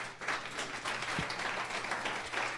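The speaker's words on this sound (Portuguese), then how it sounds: "Dê um aplauso ao Senhor Jesus." Congregation applauding during an evening communion service in church, a sustained, fairly loud roar of many hands clapping with slight swells and no talk over it.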